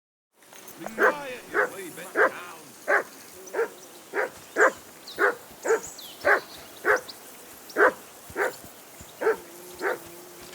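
A hound in Kingdom Come: Deliverance II barks in a steady, evenly spaced series of about fifteen sharp woofs at a riverbank camp, close and clear over a faint background.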